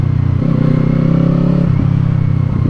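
A Kawasaki Eliminator 450 motorcycle with a two-cylinder, 180-degree crank engine idles loud and close, its exhaust making an even, throbbing burble with a couple of slight blips in revs.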